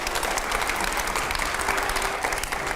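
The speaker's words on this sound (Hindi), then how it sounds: "पहले जोरदार तालियां हो सवाल के लिए" A studio audience at a televised rapid-fire interview with India's foreign minister breaks into loud, sustained applause, a thick, even wash of many hands from start to finish.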